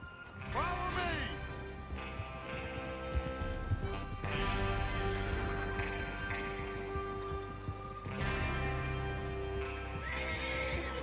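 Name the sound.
horses neighing and trotting in the video game Red Dead Redemption 2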